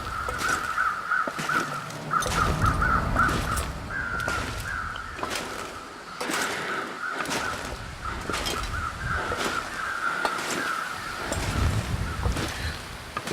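Crows caw repeatedly in the wintry outdoor setting of The Long Dark, harsh calls sounding at a middle distance over steady wind noise.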